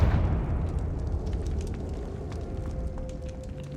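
A Confringo spell explosion in the Hogwarts Legacy video game: a sudden boom at the start that decays into a crackling, rumbling fiery tail with scattered pops, fading gradually.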